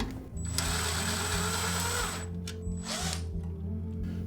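A power driver fitted with a Torx bit whirs in two loud bursts while removing screws from a fan blower, with a steady motor whine and a short stop between runs.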